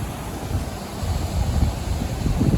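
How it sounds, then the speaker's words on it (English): Wind buffets the microphone in a steady rough rumble at a narrowboat canal lock on the Rochdale Nine, with gusts swelling toward the end and no talking. "The wind might be a bit of a pain"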